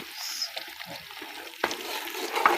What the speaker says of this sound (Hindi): प्याज मैंने रख दिया ब्राउन करने के लिए